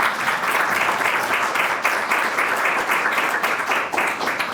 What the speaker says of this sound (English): let's give a round of applause for all of our presenters